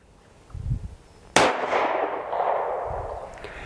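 A North American Arms .22 Magnum mini revolver fires a single sharp, loud shot outdoors, the crack decaying into a lingering echo, with quiet rustling just before it.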